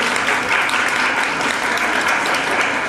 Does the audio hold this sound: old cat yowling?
no